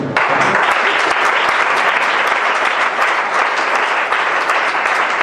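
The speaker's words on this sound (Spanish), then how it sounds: "Un hermano que me ayude con un aplauso." A church congregation at a Spanish-language sermon on Christian family duties breaks into loud, dense applause that holds steady and close throughout, with many hands clapping together.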